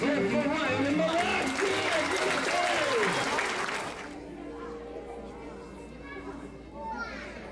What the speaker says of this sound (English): Let's clap for Ryan and Malak.